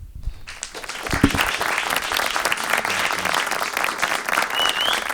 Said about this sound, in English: Another round of applause for Jesse.